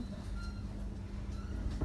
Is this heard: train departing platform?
yes